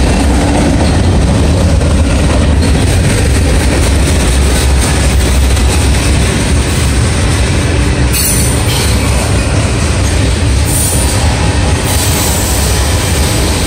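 A southbound train rolls past close by, filling the air with loud, continuous rumble, rattling cars and wheel squeal that stays steady throughout, with no talking.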